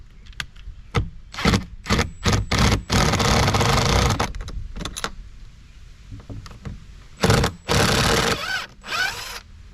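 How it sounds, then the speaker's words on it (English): A wrench snugs 17 millimeter bolts on a bass boat windshield, producing loud close bursts of ratcheting and rasping with short pauses between runs and no speech. "And we're going to start tightening away. 17 millimeter. We're going to just snug that in."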